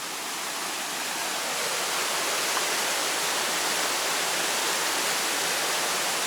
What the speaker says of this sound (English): Look at the ferocity of the water!